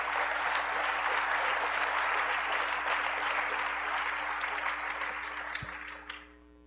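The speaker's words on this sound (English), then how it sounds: "clap if you want to" Audience applause fills a conference hall at a security talk, steady clapping from a sizable crowd that holds for several seconds and then thins out and fades near the end.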